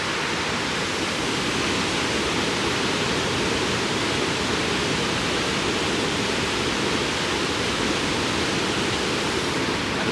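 Water pours steadily over a weir in a continuous, dense roaring rush that stays loud and even throughout, with no voices.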